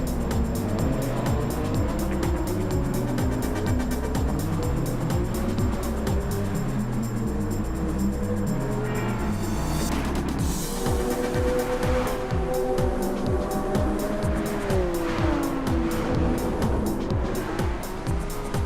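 Race car in a racing video game, lapping a circuit with engine whine rising and falling through gear shifts, plus tire squeal and other cars passing close by, loud and continuous.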